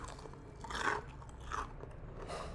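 A crispy Indonesian vegetable fritter, bakwan sayur, gets bitten and chewed close up, with two soft crunchy bursts and quiet chewing in between, no talk.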